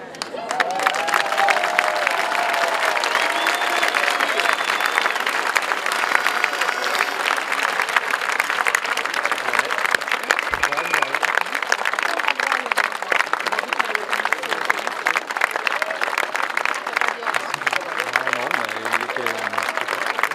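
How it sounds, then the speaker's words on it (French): A crowd at a speech in Nîmes breaks into sustained, loud applause with some cheering, dense clapping rolling on for about twenty seconds while voices carry faintly over it. "je vous propose de les applaudir"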